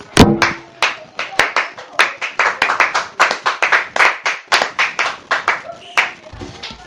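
A church congregation claps in praise, loud close rhythmic clapping at a steady beat for several seconds, with a voice heard briefly near the start.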